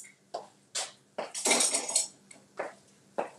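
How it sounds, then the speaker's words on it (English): A metal spoon stirs thick yogurt in a bowl, clinking against the sides in a series of sharp, close scrapes and taps at an uneven rhythm. "and then you need to stir"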